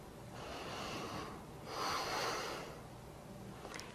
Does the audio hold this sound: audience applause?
no